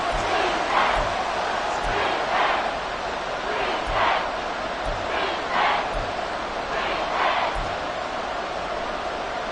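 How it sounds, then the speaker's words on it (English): Stadium crowd at a 49ers–Seahawks football game roars loudly and continuously on third and long, a dense sustained wall of noise with rhythmic swells. "This crowd turning up the decibel level."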